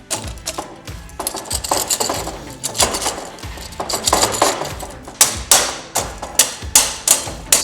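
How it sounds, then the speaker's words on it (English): A metal lower mount is slid onto the bottom of a Vantech H2.1 side access ladder, producing a run of close clicks, clanks and rattling knocks that end in several sharp, evenly spaced metallic taps. "I'm going to go ahead and take our lower mount and slide it on the bottom."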